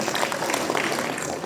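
An audience applauding themselves at a motivational camp event, a dense, steady wash of clapping from many hands filling the room for a short burst.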